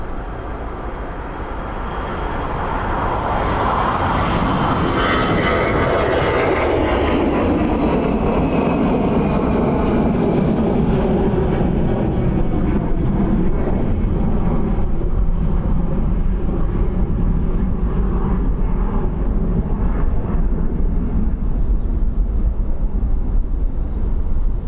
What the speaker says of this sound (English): Emirates just landed